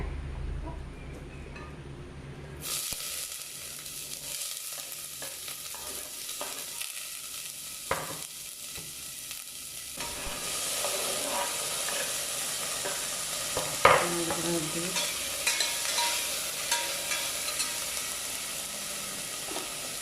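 Onion frying in a pan, quiet at first, then a sudden loud hiss as it hits the hot oil, settling into a continuous close sizzle with occasional stirring scrapes and knocks.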